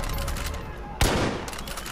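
Gunfire in the Far Cry New Dawn shooter game: rapid automatic fire rattles throughout, with one sharp, loud blast at the midpoint over a dense, steady background of shooting.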